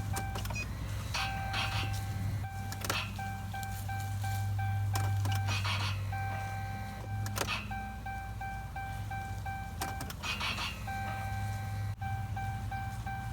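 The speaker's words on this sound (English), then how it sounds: "you hear the fuel pump kick on." A Cummins 6.7L truck fuel pump kicks on repeatedly as the key is cycled to prime it, giving steady electric whines that start and stop over a constant low engine-bay hum, with no talking.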